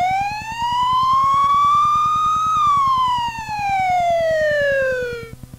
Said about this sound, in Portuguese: Era uma sirene de um carro de polícia.